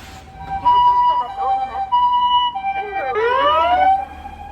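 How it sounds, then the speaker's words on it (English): A loud two-tone ambulance siren wails nearby in Japan, then shifts into a rising and falling yelp as it passes, with traffic rumbling underneath. "Oh no, we've got an ambulance coming."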